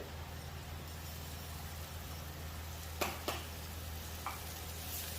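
Butter sizzles in a pan as burgers cook, a faint steady frying hiss with a few sharp clicks and scrapes partway through.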